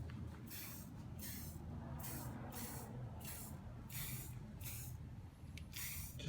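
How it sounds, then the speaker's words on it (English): Short bursts from a can of Rust-Oleum flat black spray paint, about eight quick hissing spritzes in an even rhythm, close and fairly loud over a steady low background rumble. "give it just a little spritz here and there"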